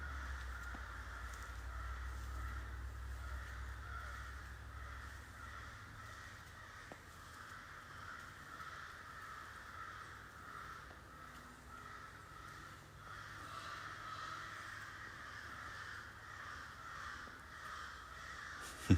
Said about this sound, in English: The crows are really going at it out there.